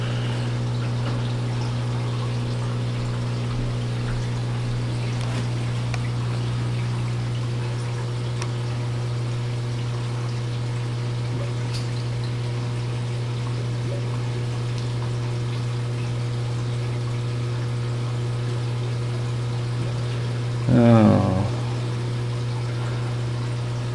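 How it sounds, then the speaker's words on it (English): A steady low electric hum of an aquarium air pump runs throughout, constant and quiet, with a short splashing burst of water near the end. "The sound you hear is actually that air pump."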